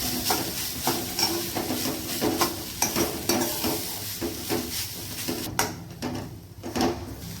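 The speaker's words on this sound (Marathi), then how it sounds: "नारळ छान परतून घेऊया।" Grated coconut and poppy seeds roasting in a pan for modak filling, a dry crackling sizzle broken by rhythmic scraping strokes of a spatula, close and fairly loud, without speech.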